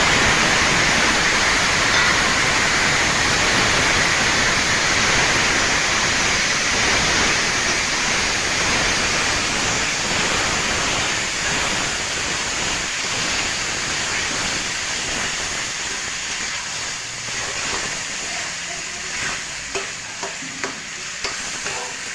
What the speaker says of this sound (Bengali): এখন কচুর শাকটা আমি এই তেলে দিয়ে দিলাম